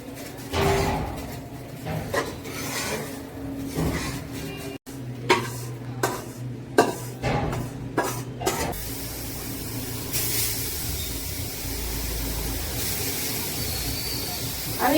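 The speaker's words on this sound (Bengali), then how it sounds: "আমি এখানে চালটা ভেজে নেব" Rice being dry-roasted in a pan for making pitha, with a burst of scraping and stirring strokes against the pan in the middle, then a steady hiss of roasting. A voice speaks faintly.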